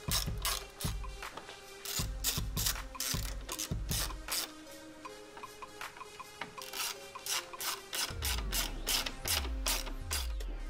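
Fasteners being refitted on the lower grille of a 2018-2019 Ford F-150, a close series of rapid ratcheting clicks in bursts, with plastic rubbing and clicking between them.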